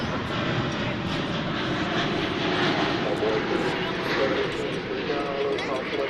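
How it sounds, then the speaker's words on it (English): A Boeing 777 jet airliner arriving at DFW Airport produces a loud, steady engine roar that fills the whole clip without letting up. "That's a 777 that's coming in from San Antonio, Texas."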